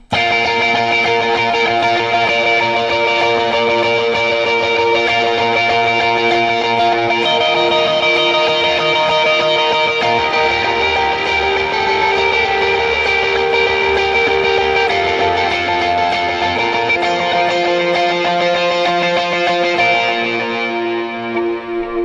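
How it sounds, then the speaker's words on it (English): Electric guitar rings out sustained, effect-laden chords with a distorted, shimmering chorus-like tone, playing continuously and loudly throughout without any voices. "Here's what the chorus sounds like."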